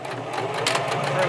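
A sewing machine runs steadily, stitching fabric for stuffed toy arms, legs and tail, its motor whirring in a continuous hum while a person talks over it.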